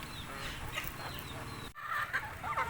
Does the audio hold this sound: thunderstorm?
no